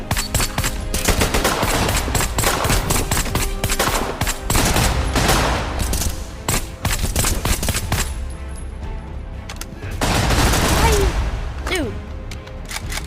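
Rapid automatic gunfire in the multiplayer shooter Battleglide, loud and dense in long sustained bursts with short breaks. A louder volley comes near the end.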